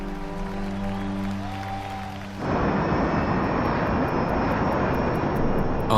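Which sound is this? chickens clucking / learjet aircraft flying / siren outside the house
learjet aircraft flying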